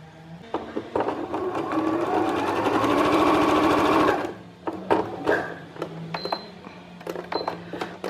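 Sewing machine running in one steady burst of several seconds, stitching a patchwork and quilting piece, with close handling clicks and fabric rustles before and after.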